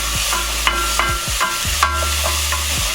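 Chopped carrots and vegetables dropped into a hot pot for a bolognese, a loud close sizzle with repeated stirring and scraping scrapes in an irregular rhythm.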